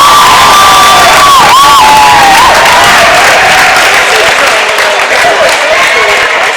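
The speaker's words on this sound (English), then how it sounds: "The crowd got so loud in here" A loud, dense crowd roars and cheers throughout a high school wrestling meet in a packed gym, with whistling whoops rising above the sustained din, which eases only slightly toward the end.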